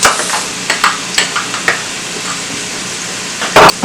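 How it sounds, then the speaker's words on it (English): Onion, peppers, carrots and spring onion stir-fry in oil in a frying pan, a steady loud sizzle broken by repeated scraping taps of the utensil and a clatter near the end. "We're done stir frying."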